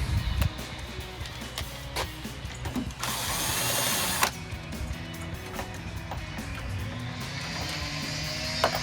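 Ratchet wrench turning headlight mounting bolts on a 2015-2019 Chevrolet Silverado 2500 HD, with short clicking bursts and one longer continuous ratcheting run, close and loud.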